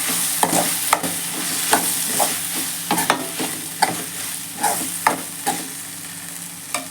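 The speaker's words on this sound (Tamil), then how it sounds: "இப்போ நான் அதில் தான் சேர்த்து வதக்குறேன்" Shelled green peas sautéed in a pan with a steady frying hiss, broken by a series of sharp spatula scrapes and clicks at an irregular stirring rhythm, close up with no voices.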